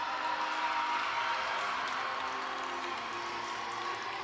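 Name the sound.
gymnastics meet crowd applauding and cheering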